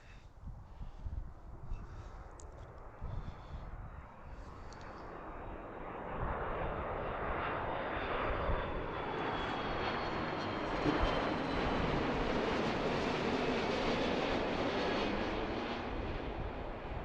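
A British Airways Airbus A350 airliner arriving at Philadelphia airport: a jet roar that builds from faint and distant to a loud, sustained rush and stays strong to the end.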